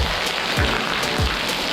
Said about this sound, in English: That is what you call rain.